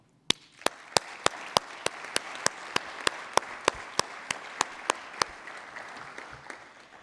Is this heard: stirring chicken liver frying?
no